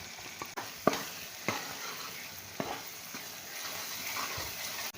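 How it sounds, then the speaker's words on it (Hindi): Spices frying in oil for a beef keema daal, a soft, steady sizzle broken by sharp scraping and tapping strokes of a spoon against the pan. "तो ये मसाले हम इसके अंदर डाल देंगे और इसको अच्छे तरीके से हम फ्राई कर लेंगे।"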